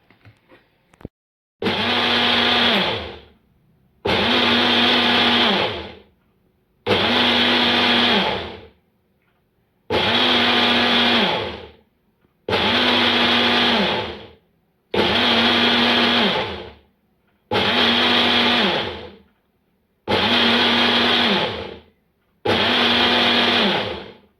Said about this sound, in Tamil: இப்போ வந்து எட்டுலேருந்து பத்து வாட்டி பல்ஸ் பண்ணி எடுத்துக்கலாம்